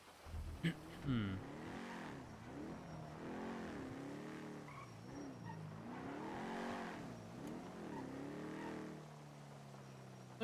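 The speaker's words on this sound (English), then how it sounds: "I think we heard a car over here." A car engine in a video game revs up and down repeatedly at a distance, rising and falling in pitch, with occasional faint voices.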